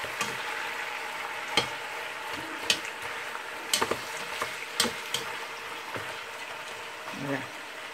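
Onions sizzling and frying in a pot with short ribs, a steady crackling hiss throughout with a few sharp clicks and stirring knocks over the top, close and moderately loud.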